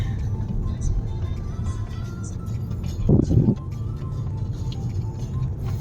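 Steady low road rumble heard from inside a large car on a drive home from the office in Boston, with a brief louder bump or thump partway through and no talk.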